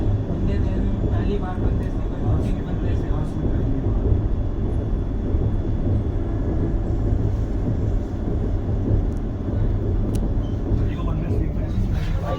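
Passenger train 02075, running from Malda Town to Kamakhya, rumbles past a moving train coach as a deep, continuous roar, heavy low-end rolling noise filling the whole span without clear breaks.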